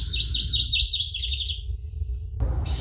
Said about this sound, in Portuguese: Passarinhos cantando.